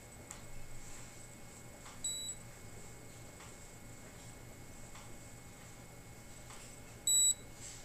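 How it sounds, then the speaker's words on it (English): An AgeLOC Galvanic Spa skincare device emits short electronic beeps during a facial treatment, faint and widely spaced, with one louder beep near the end over a quiet background hum. "The device will start beeping faster"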